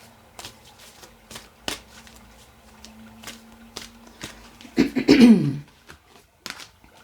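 Crystal Mandala Oracle cards are shuffled by hand, a series of soft sharp riffling taps and flicks scattered across the stretch, building into a denser, louder burst of shuffling near the middle before trailing off into a few quiet clicks.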